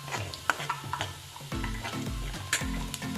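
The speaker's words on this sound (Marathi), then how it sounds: "कांदा चांगला परतून घ्यायचा, थोडा लालसर रंग येईपर्यंत" Chopped onion sautéing in a pan for Marathi-style mung dal, a steady sizzle broken by spatula stirs and scrapes, with a low droning hum beneath.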